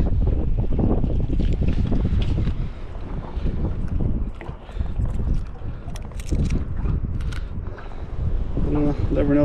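Gusty wind buffets the microphone in heavy low rumbling bursts on a boat while trolling for walleye, with water lapping in the background and someone talking briefly.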